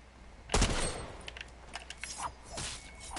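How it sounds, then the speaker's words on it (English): Distant video-game gunfire from a mountain: a sharp burst near the start followed by scattered faint shots and rattles, quiet overall, with no talking. "Yeah, they're shooting up on the mountain."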